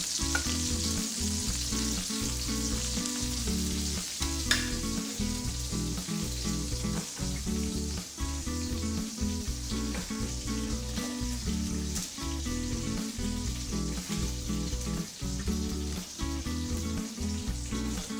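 Four chicken thighs and three drumsticks fry in their rendered oil, giving a close, continuous, dense sizzle and crackle with no talking.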